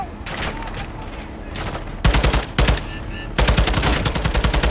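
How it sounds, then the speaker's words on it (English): Gunfire at car tires in Call of Duty Modern Warfare 2: rapid automatic bursts, first lighter, then two loud, dense volleys of crackling shots, close and sharp, with a voice briefly underneath. "Should we shoot the tires?"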